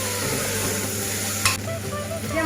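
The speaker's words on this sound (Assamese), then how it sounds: "এতিয়া দি মই পুনৰ ভালকৈ লৰাই দিছোঁ।" Chole masala stirred in a frying pan, a steady sizzle under continuous scraping strokes, with a brief sharper clatter midway through.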